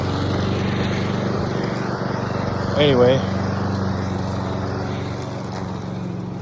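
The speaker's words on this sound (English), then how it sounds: "walk past people that have lawnmowers running while I'm trying to record" A lawn mower engine drones steadily nearby through the whole stretch, a constant buzzing hum under someone speaking briefly mid-way.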